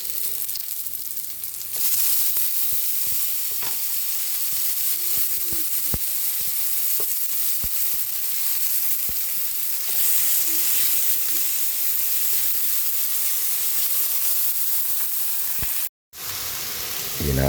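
Tomatoes hit a hot frying pan for pinakbet and sizzle loudly and steadily, a dense, continuous frying hiss with occasional stirring clicks, cutting out briefly near the end before resuming.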